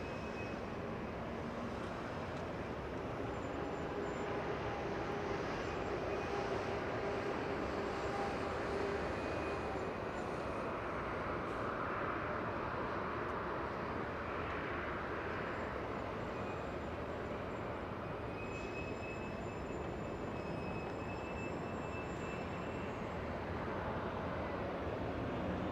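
A heavy Boeing 777-300ER jet airliner arriving close by at LAX, a broad steady roar of engines and rushing air that holds at an even loudness throughout with no talk over it.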